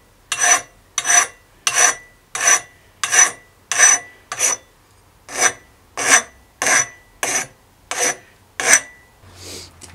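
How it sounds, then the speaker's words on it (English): A file rasps against the end of a bicycle part, likely the steerer of a vintage Scott mountain bike, in about a dozen evenly spaced strokes, each a harsh scrape, close and loud with no voices. "Don't forget to give the end a good file down"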